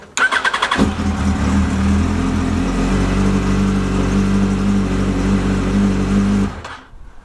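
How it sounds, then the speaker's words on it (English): A Yamaha FZ1-S motorcycle fires up at once after a starter relay repair, a brief cranking burst, then a steady close idle holding for several seconds before cutting off, no talk. "We now got an FZ1-S that starts first time every time."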